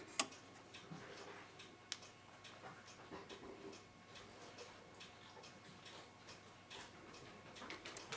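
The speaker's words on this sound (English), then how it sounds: "you can see it's ticking, hands moving. Ticking really fast because there's no pendulum on it." A c1910 Gustav Becker Silesia wall clock with an Amerikaner P48 movement ticking rapidly without its pendulum, fast faint regular ticks close by in a quiet room.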